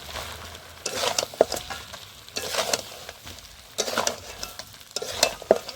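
Goat head masala with Kashmiri chili being stir-fried in a pan: scraping stirs come in rhythmic bursts roughly every second and a half over a low sizzle, close and moderately loud, with no talking.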